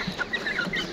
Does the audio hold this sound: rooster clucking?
yes